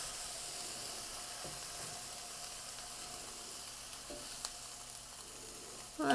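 Beef strips for fajita wraps fry in a pan with a soft, steady sizzle and hiss that stays fairly faint throughout, ending in a brief louder scrape or clatter.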